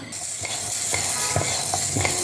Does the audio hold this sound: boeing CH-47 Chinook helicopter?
no